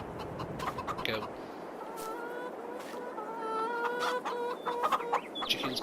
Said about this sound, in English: Chickens clucking away as they usually do.